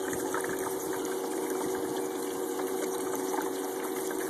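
Water runs steadily through a small gold placer demonstration model, a constant close trickling wash with a faint pump hum underneath and no pauses.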